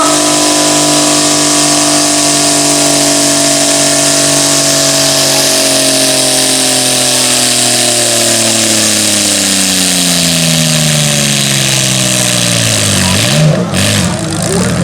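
A racing garden tractor engine roars at the green-flag start of a race at Lubersac, loud and close, its pitch sweeping down and rising again as it pulls away, with a brief break near the end.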